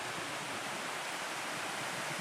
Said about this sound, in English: It's got a dam with a waterfall, and there's a bridge over this waterfall.